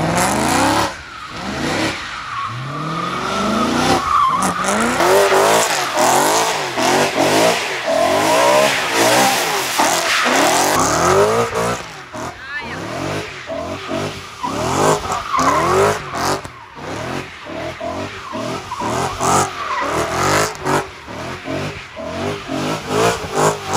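A BMW M3 E92 with a V8 drifts around a cone, its engine revving hard and rising and falling while the tires squeal and skid in long, repeated sweeps, loud and close throughout.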